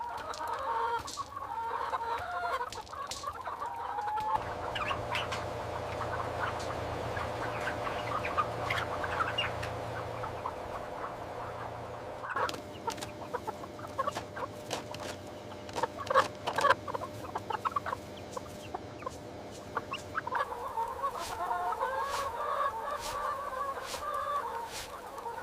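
Laying hens cluck and chatter inside a chicken house, a busy flock heard at moderate distance with scattered sharper calls rising over a constant hum of ventilation that shifts in tone partway through.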